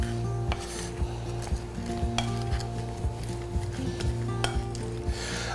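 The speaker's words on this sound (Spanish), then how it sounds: "hacemos que toda nuestra miel de naranja se integre con nuestro pollo" Chicken pieces stirred in an orange honey sauce sizzle steadily in a hot pan, with repeated utensil scrapes and light clinks against the metal, close and continuous with no talk.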